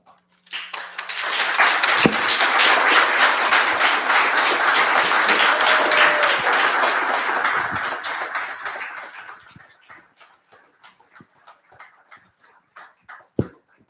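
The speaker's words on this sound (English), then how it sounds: "One more round of applause." An audience applauds after a school reader's theater performance, the clapping swelling quickly and holding dense for several seconds before thinning into scattered individual claps and a final sharp clap.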